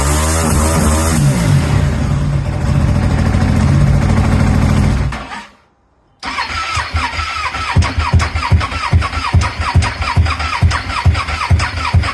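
A Ducati 959 Panigale race bike with an engine misfire turns over: a loud, steady starter-and-engine drone runs alone for several seconds, cuts briefly to near silence, then resumes as rapid, rhythmic cranking pulses that never catch.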